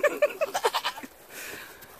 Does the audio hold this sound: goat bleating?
yes